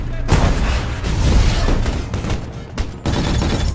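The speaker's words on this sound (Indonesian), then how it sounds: "Sementara musuh terus menghujani mereka dengan peluru dan RPG." Heavy gunfire and RPG blasts in a war film ambush on vehicles, a loud dense barrage of shots and booms with sharp cracks, continuous for several seconds.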